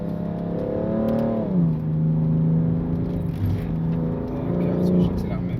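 A car in sport mode on a rainy Nürburgring makes a steady cabin engine drone that climbs, drops through a gear change, then holds, while someone speaks over it.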